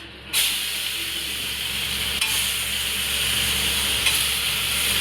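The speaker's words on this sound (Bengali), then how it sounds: "এইবার দিয়ে দেবো আদা রসুনের পেস্ট" Ginger garlic paste hits hot oil in a pan over lowered flame for rajma, bursting into a sudden loud sizzle that settles into a steady close hiss with faint stirring, no talking.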